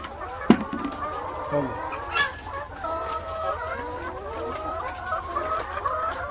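Caged chickens in a battery cage poultry farm cluck and chatter continuously, many birds overlapping at close to middling distance, with a few sharper squawks standing out from the steady flock noise.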